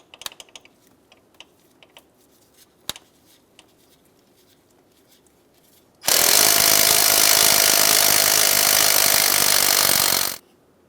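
Impact wrench or air tool taking out a transmission mount bolt on a 2007-2015 Mazda CX-9, a loud continuous rattling burst of about four seconds after quiet shop clicks and taps.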